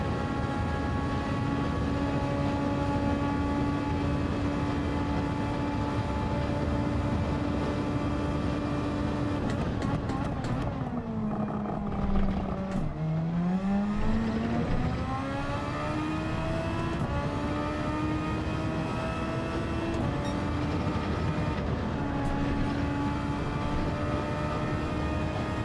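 A race car in Gran Turismo 7 holding a loud, steady high-revving engine note, then briefly dropping off and sweeping back up as the throttle is lifted and reapplied, with no talk.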